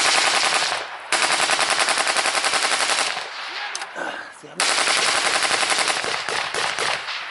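Machine gun fire rattles in long, dense bursts at close range in a combat zone, loud and continuous with short pauses between volleys and no talk over it.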